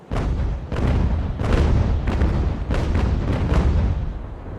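Broadside of sailing-ship cannons in Ultimate Admiral: Age of Sail, a loud ragged volley of heavy booms firing one after another in quick bursts, each with a rumbling tail, no voices.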